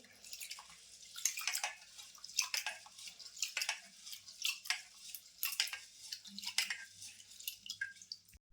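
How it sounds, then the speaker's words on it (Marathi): Quiet, rhythmic swishing and dripping of water as grains are rinsed by hand, with small splashes coming in steady bursts. "तांदूळ आता मी स्वच्छ असे 2-3 पाण्याने धुवून पाण्यामध्ये ठेवते"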